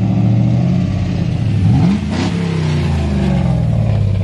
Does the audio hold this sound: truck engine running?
yes